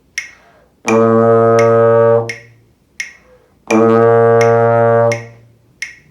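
Two long, loud trombone half notes in low register, each held about a second and a half with a half rest between, while sharp clicks tick a steady beat around them.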